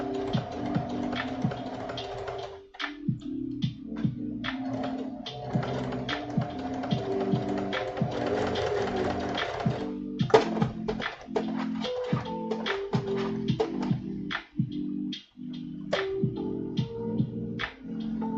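A sewing machine stitches a spider emblem on a symbiote suit, running in long steady stretches broken by short stops and quick tapping clicks, close and alone.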